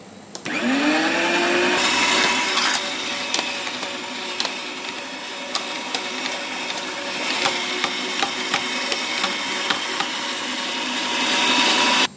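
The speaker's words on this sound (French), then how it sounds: "hacher les gambas aussi" Prawns and meat are being minced by a loud, steady motorized whir that runs continuously at close range, broken by small clicks and knocks.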